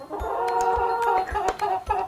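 A toy's electronic chicken clucking plays in short repeated bursts, with a steady tonal hum running underneath and small thumps between the clucks.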